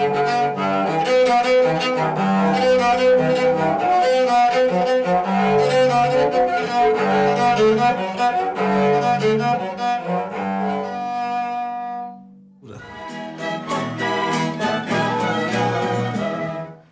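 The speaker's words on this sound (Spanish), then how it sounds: "Este chelo está hecho de una lata de aceite, la madera tirada en la basura" A cello built from an oil can and scrap wood, with tuning pegs made from an old meat tenderizer, played as a continuous bowed melody. A short pause comes near the end before the playing resumes.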